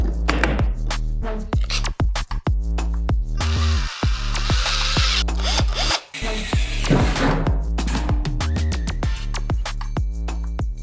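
A budget power drill whirs loudly and steadily, cutting into a microwave, its motor pitch rising and dropping in short bursts with brief pauses as it bites in up close.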